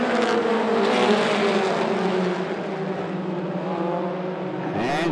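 Mini stock race cars accelerate together off the green flag start at 411 Motor Speedway, a loud, dense roar of engines that stays strong throughout.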